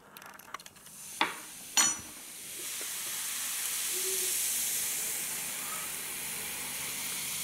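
Baking soda poured into a liquid with corn kernels, a few sharp clinks and taps of the spoon followed by a steady, rising fizzing hiss that carries on softly to the end.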